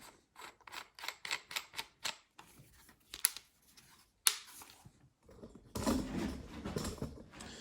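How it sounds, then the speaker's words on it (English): Fittings are unscrewed and screwed onto a Milwaukee expansion tool, a run of quick rhythmic clicking ratchet-like taps, then a few sharper clacks and a brief scraping rustle of handling, close and fairly quiet. "Now let's change out our fitting. So let's screw this out, screw this on."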